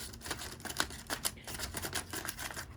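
Scissors cutting through a sheet of paper on a table, a rapid run of short crisp snips and rustles close by, with no voices.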